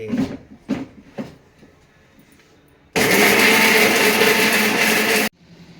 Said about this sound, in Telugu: మూత పెట్టి మిక్సీ ఇది రుబ్బుకుందాం పచ్చడి